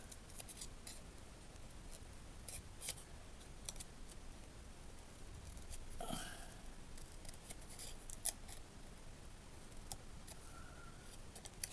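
Card pieces being cut with scissors for a birthday card, giving quiet crisp snips and clicks scattered irregularly, close up with no talk.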